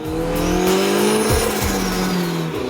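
A turbocharged Nissan SR20 engine in a Datsun pickup pulls hard and close, pitch climbing steadily before a quick shift and another rising pull.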